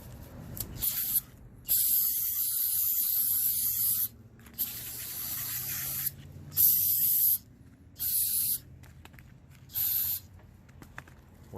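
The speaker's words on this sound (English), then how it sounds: "I'm gonna hit this thing with brake cleaner" Aerosol brake cleaner sprayed onto the rear brakes of a 2020 Nissan Rogue SV, six separate hissing bursts of about a second each, loud and close, with short quiet gaps between them.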